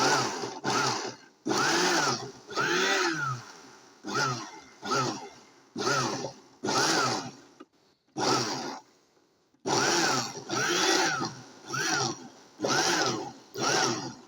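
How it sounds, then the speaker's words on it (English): Blender pulsing a fire-roasted, smoked salsa in short repeated bursts: about ten loud whirring pulses, each a second or so long, separated by brief pauses, close up with no talking over it. "Throw it all in a blender, pulse it."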